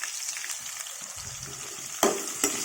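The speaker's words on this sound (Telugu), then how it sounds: "దీంట్లోకి ఉల్లిపాయ, ఆలుగడ్డ, పచ్చిమిరకాయ వేస్తున్నాను" Onion, potato and green chili hit hot tempering in a pan for an eggplant curry, giving a steady frying sizzle with a couple of sharper bursts as pieces drop in and are stirred.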